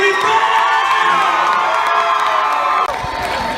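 A lively crowd at a deck party in Key West cheers and whoops loudly, with excited shouts, some high-pitched, blending into a steady roar throughout.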